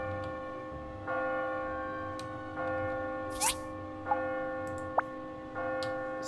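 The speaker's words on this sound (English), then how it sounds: "Why did the bell ring?" A bell in My Time at Portia rings in a slow, evenly spaced series of resonant tolls with long ringing overtones, moderately quiet, with a few brief clicks and chirps between strikes.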